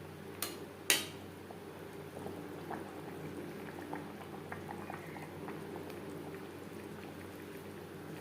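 Silver carp curry gravy with potato and cauliflower simmers in a pot, a steady soft bubbling that runs throughout, with a couple of brief metallic clinks near the start.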